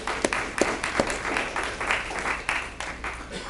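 A crowd at a school candidates night claps in a scattered, uneven burst, with sharp individual claps standing out from softer applause at moderate distance.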